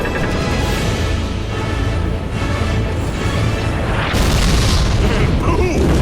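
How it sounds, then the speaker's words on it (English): Cannon blasts destroying a ghost ship in Skylanders Giants, a loud sustained booming roar with a sharper burst of explosion noise near the end, mixed with game music and voices. "And boom! There goes the ghost ship!"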